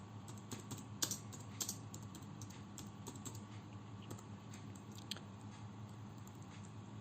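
Rapid, uneven clicks of fingers typing on a computer keyboard, a quiet close-up patter with a few sharper keystrokes.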